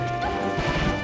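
Peach's down smash connecting in Super Smash Bros. Melee at a tournament match: a loud, close cluster of sharp impact hits packed into one second, with no talk over them.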